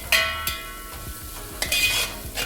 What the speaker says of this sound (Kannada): ಇದು ಚೆನ್ನಾಗಿ ಫ್ರೈ ಮಾಡಬೇಕು